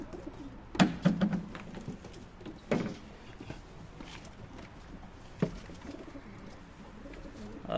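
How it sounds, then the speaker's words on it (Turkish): Pigeons coo repeatedly at close range, with soft fluttering and shuffling between the calls. "bak bu kadar kuş var burada"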